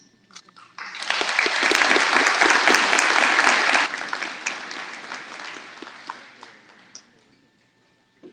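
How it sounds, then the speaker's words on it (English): Big round of applause from the audience at a Houston Police cadet class graduation, honoring award winners; dense clapping swells quickly, holds strong for a few seconds, then thins out to scattered claps before ending. "Let's give all our award winners another big round of applause."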